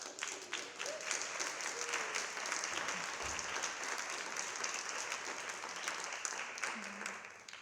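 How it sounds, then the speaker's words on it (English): Conference audience at the closing panel of a mountain-regions congress applauds a newly elected president, a moderate, even round of clapping that carries on for about seven seconds with faint murmurs beneath it. "I think a round of applause for Laura, the newly elected incoming president of Euromontana."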